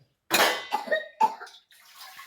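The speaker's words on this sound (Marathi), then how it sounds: "खोकतंय खोकून द्या" A short fit of coughing, about three sharp coughs in quick succession, close and fairly loud, trailing into a softer breathy sound.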